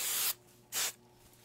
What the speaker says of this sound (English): So now I'm gonna spray a little bit of hairspray just to give it a little bit of hope.